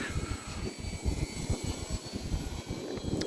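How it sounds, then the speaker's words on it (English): A Hobbyzone Carbon Cub S 2 1.3m RC airplane flies overhead, a steady buzzing electric motor drone with fluttering pulses, moderately loud and continuous with no talking. "This is actually a pretty fun airplane to fly"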